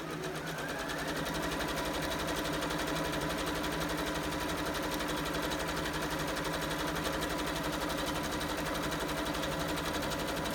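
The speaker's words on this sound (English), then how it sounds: "We're going to go ahead and stitch and see if we can't get a better stitch." A sewing machine runs continuously, stitching a test run on fabric after thread tension adjustment, giving a steady fast mechanical whirring and ticking rhythm throughout, close and even, with no talking.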